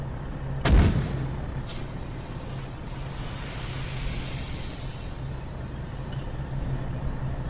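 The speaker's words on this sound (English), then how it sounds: "Oh, artillery!" A single heavy artillery blast booms once in the Arma 3 video game, a sharp loud crack followed by a long rumbling decay over a steady engine-like background drone.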